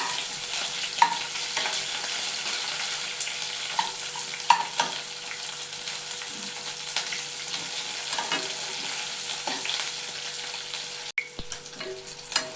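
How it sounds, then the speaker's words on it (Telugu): Onions frying in a pan for a village-style drumstick tempering: a steady close hiss with faint sizzle, occasional light scraping of a stirring spoon, and a brief clatter near the end, no voices. "ఇప్పుడు వేగిపోయాయండి ఉల్లిపాయలు."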